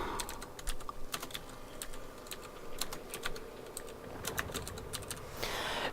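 Rapid typing on a computer keyboard, close and clear, with irregular bursts of sharp key clicks and brief pauses, no voices.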